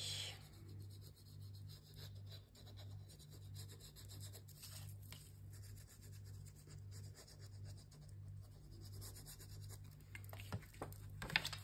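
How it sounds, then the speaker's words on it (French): Soft, repeated rubbing and scraping strokes as glue is spread over both sides of a paper album page, quiet and close, with a steady low hum underneath and a few sharper scratches near the end. "je peux appliquer ma colle des deux côtés"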